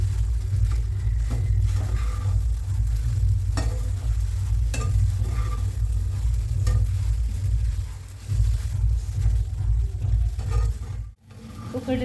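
Sabudana khichdi with boiled potatoes, green chilli and crushed peanuts being stirred in a pan, giving a steady low rumble of frying with scattered scraping stirs throughout, no talking.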